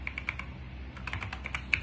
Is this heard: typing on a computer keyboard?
yes